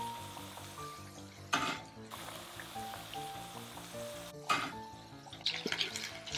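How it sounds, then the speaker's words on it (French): Sweet potato and lotus root tempura fry in hot oil, a soft, steady crackling sizzle broken by two louder bursts of bubbling as pieces go into the pan, with light clinks of utensils. "Puis on fait frire les tempura de patates douces et de lotus."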